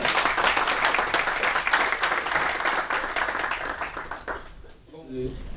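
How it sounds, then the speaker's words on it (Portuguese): Audience at a public presentation of a bar association candidate's program bursts into sustained clapping, loud and dense for several seconds before cutting off, followed by a brief sung or spoken voice at the end. "Uma salva de palmas para você."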